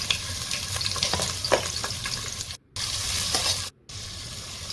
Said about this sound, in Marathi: कांदा चांगला आपल्याला खरपूस होईपर्यंत भाजून घ्यायचा आहे